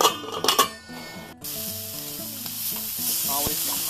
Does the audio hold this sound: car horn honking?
no